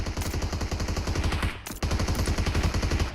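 Rapid automatic gunfire from the PUBG Mobile video game, close and loud, firing in steady repeating bursts with a short pause midway before the shooting resumes.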